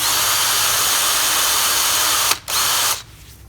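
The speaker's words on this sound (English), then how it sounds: "there's a nice big 4mm hole drilled all the way through the tyre." A power drill bores a 4mm hole straight through a motorcycle tyre for a puncture repair, a loud, steady high whir that briefly cuts out, resumes for a moment, then stops.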